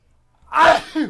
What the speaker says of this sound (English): See, that's a sneeze.